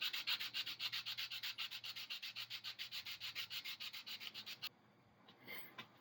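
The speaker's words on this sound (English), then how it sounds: "taking some sandpaper, sticking it around a dowel, and then sanding across the face of it there to" Sandpaper wrapped around a dowel rubs back and forth across the nose of a carved wooden striped bass plug, about two dozen quick, regular close strokes that stop abruptly near the end.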